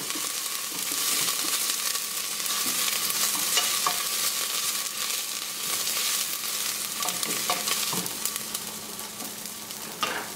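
Ginger and garlic fry in a hot pan, a steady crackling sizzle running the whole time with occasional stirring scrapes and clicks, close and fairly loud, no voices.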